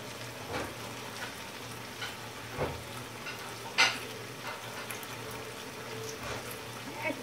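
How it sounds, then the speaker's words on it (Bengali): A spoon stirs white pepper and tomato sauce in a frying pan for chicken rezala, giving a soft background sizzle with scattered scrapes and a sharp clink midway, fairly quiet and close. "এখন আমি এগুলো ভালো করে মিক্স করে নিচ্ছি, এই সাদা গোলমরিচ আর হচ্ছে টমেটো সসটা"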